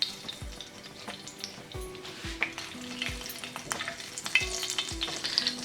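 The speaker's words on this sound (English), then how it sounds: "Now that the oil is warm, I'll be adding my cumin seeds" Cumin seeds fry in warm oil with a soft, steady sizzle, punctuated by light clinks and scraping thumps of a utensil against the pan.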